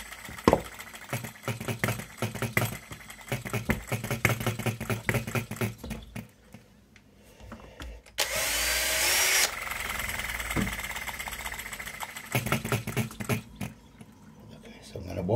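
Vintage Monitor ball-top miniature precision hit-and-miss gas engine, spun up and near to running, chatters in rapid mechanical bursts, drops away for a moment, then returns after a loud hissing spurt.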